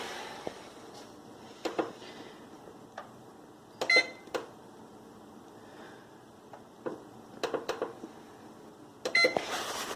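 A kitchen timer beeps in short bursts while vegan cookies bake, the electronic chirps spaced irregularly across the moment against a quiet kitchen background with soft clatter between them.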